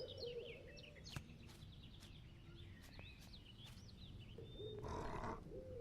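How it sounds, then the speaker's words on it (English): Krogome creatures in the video game Empyrion give faint warbling, swooping calls over a low rumbling ambience, with a few sharp clicks and a brief louder yowl near the end. "That's the sound of Krogome."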